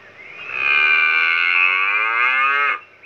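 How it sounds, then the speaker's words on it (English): A single long, loud cow moo, close by and sustained for a couple of seconds before cutting off, heard alone outdoors near a picnic spot under a tree. "Boys, a cow."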